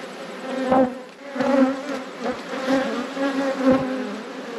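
Honey bees in an open hive during a brood inspection, a close, loud buzzing drone that swells and dips as insects fly past, with no voices over it.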